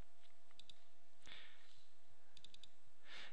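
Several light, sparse clicks of a computer keyboard being typed on while a spreadsheet formula is entered, quiet and close in an otherwise hushed room.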